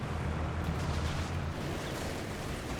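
Artillery-style explosions and rumbling battle noise from mortar fire in the Company of Heroes 3 strategy game, a dense, continuous low-end din of blasts with no clear pauses.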